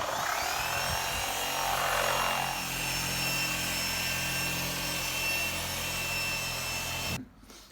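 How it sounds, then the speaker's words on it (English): A machine polisher runs continuously on a car headlight lens, a loud, steady whirring drone close up that holds for several seconds before cutting off abruptly near the end. "before they need like a full restoration, you can try machine polishing them"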